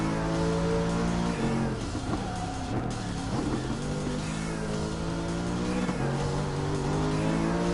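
A Mercedes SLS engine in the GT Sport racing game, revving steadily with rising and falling pitch across gear shifts, loud and close, with no talk over it.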